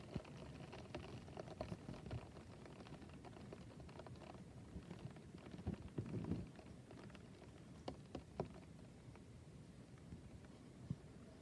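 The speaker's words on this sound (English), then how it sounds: "Look at this heavy rain" Heavy rain pouring down on a cloudy day, a steady soft patter with scattered sharper drips and splashes, fairly quiet and continuous with no talk.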